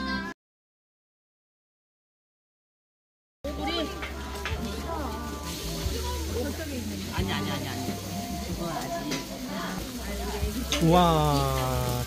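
Food frying in a pan at a temple festival, a steady crackling sizzle filling the scene after a brief silence, with people chatting nearby and a voice exclaiming over it.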